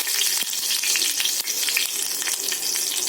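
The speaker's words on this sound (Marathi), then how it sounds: "लसूण लाल झाला की त्यामध्ये कढीपत्ता टाकायचा" Crushed garlic and curry leaves frying in hot oil for a fish curry, a loud, dense crackling sizzle with sharp spits and pops throughout, heard close and alone.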